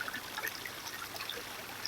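Creek water trickles softly in Buffalo Canyon near the remains of a broken dam, a faint, steady, hissing flow with no other sounds over it.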